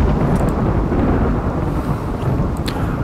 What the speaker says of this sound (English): Joys of a thunderstorm.